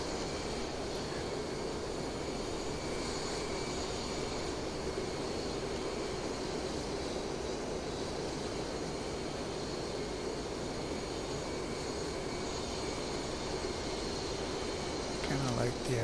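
Mirage F-1 jet in the DCS flight game, a steady low cockpit rumble and hiss holding evenly at modest volume as it flies a downwind leg before landing.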